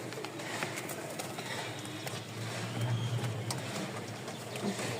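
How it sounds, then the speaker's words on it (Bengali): Low, soft cooing from top-quality feather-footed pamujala pigeons kept for sale in Mirpur, Dhaka, rising briefly mid-way over a steady background hiss and faint mechanical clicks. "এরকম নয় জোড়া কবুতর থাকবে এই দেখেন"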